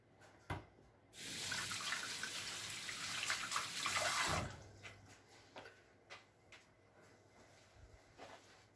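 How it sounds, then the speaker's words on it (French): Kitchen tap water runs into a sink for about three seconds while hands are washed after crumbling bread, then stops, leaving scattered drips, taps and small handling noises. "Je vais me laver les mains."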